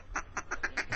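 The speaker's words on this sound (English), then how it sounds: "Giving his duck call a blow here is Chuck Echenique" A handmade duck call blown in a quick string of five or six nasal quacks, close and clear, each short and evenly spaced.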